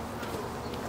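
Honey bees hum steadily around an open eight-frame hive box with drawn comb, a soft, dense buzz close by with no pauses, faint overall.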